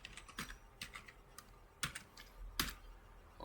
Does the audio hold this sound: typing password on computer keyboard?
yes